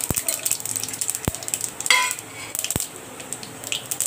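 A tempering of mustard seeds, cumin and chana dal fries in oil, giving a light sizzle and crackle under a few sharp metal clinks from a spoon against the pan.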